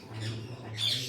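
An Alexandrine parakeet lets out loud, harsh squawks at close range among birds kept for sale at a pet seller's, with a low steady hum underneath.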